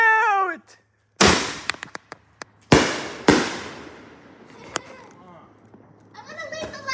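Fireworks shot off outdoors on Independence Day, several sharp loud bangs and crackling pops with decaying rumbles between them, with excited voices shouting before and after.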